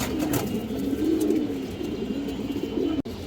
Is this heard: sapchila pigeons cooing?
yes